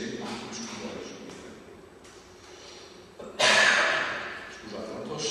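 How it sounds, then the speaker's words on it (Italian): A man gives a single loud cough at a talk on IT automation, a sharp burst standing out from the quiet room tone and fading over about a second. "Scusate la tosse."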